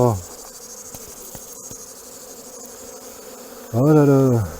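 Honey bees buzzing around hive frames during the combining of several nucs before wintering, a steady insect drone with a louder tonal buzz swelling near the end.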